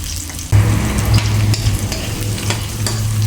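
Aromatics sautéing in a pan for eel adobo sa gata with sitaw, a loud steady sizzle with stirring scrapes and clatter running throughout.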